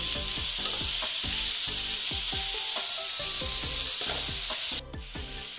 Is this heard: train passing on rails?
no